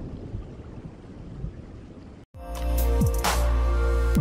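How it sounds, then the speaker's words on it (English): Rain falls in a forest near Bangalore, heard from shelter inside a small stone temple: a soft, diffuse patter first, then a sudden louder, heavier roar of downpour with rumbling low end. "By now, it started raining, so we took a shelter inside the small temple."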